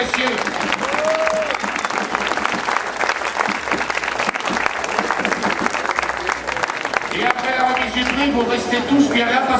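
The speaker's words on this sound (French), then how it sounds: "Je vous demande d'applaudir." An audience at a tattoo convention applauds a graphic designer and a sculptor, loud sustained clapping and cheering from a large crowd, with a few voices calling out over it throughout.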